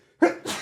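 A single short sneeze bursts out abruptly from near silence, close and fairly loud, with a brief sharp onset followed by a breathy tail.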